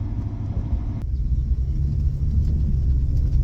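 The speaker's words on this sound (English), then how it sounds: "it's definitely downshifting into first now" A classic car engine downshifts into first gear, a deep, steady rumble that swells slightly near the end, heard close and without talk.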